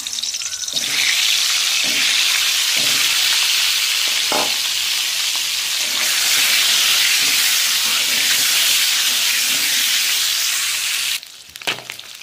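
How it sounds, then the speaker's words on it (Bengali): A boiled egg coated in salt and turmeric frying in hot oil, giving a loud, continuous crackling sizzle with a few stirring knocks, which dies down sharply near the end. "আমি ডিমটাকে ভেজে নেব, তেলের মধ্যে দিয়ে দিলাম।"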